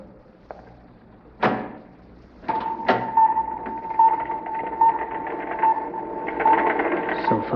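A door opens in a 1950s science-fiction radio drama, with a sharp clunk followed by a second knock, then a steady mechanical hum with clicks and whirring that continues loud to the end.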